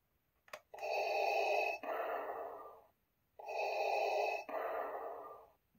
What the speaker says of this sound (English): the iconic breathing from Vader